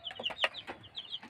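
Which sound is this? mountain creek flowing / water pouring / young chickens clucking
young chickens clucking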